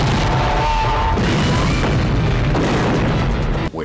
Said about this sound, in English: Where did he get the rocket launcher from?